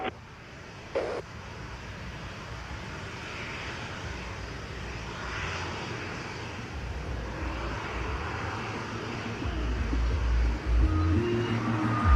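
An airliner lands on runway 25 at Montego Bay airport in Jamaica, in a 16-knot wind. A loud, broad engine roar and rushing wind hold steady, then swell heavier toward the end.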